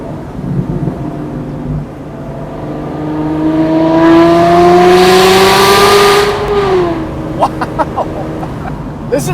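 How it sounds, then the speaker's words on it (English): An Aston Martin Vanquish engine revs hard and loud, its pitch climbing steadily over several seconds before dropping back, then settling into a lumpy idle with sharp blips, close by. "That's one of the loudest cars I've ever heard."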